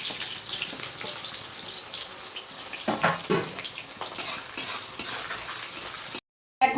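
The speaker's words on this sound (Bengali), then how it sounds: "পেঁয়াজটা মোটামুটি ভাজা হয়ে গেছে" Onions frying in oil with cardamom, cloves, bay leaf and cinnamon for chicken biryani, a dense close sizzle with stirring scrapes and bursts of spatter before a brief dropout.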